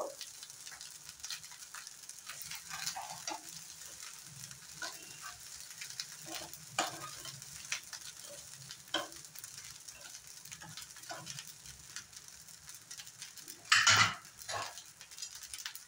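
Carrot being stirred into paneer fried rice in a frying pan, a steady low sizzle beneath scattered light scrapes and clicks of a utensil against the pan, with one brighter clatter near the end.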